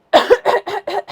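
Five quick, close coughs in a row from an adult with a tickle in the throat, loud and harsh, each burst short and separated by brief gaps.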